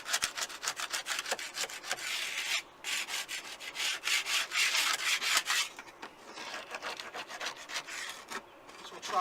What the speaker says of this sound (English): you just start scraping across it like this